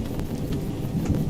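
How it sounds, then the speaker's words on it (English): Low rumbling thunder rolls steadily beneath a wash of rain during a storm in Skyrim, a continuous dull roar with a few soft swells, heard alone. "Okay, so maybe the thunder's getting less."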